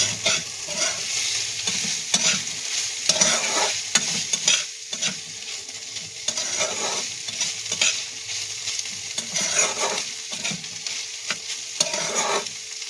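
Flat beans with a pinch of turmeric fry in a pan while being stirred. Rhythmic scraping strokes recur over a continuous sizzle, close by and without speech.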